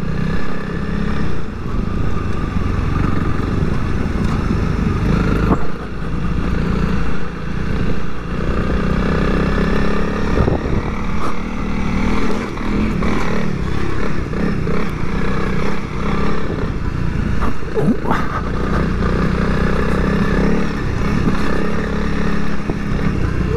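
Honda CRF 300L motorcycle riding around the 5k course at an adventure bike festival, a steady, loud engine drone for the whole stretch with shifting revs and no talk.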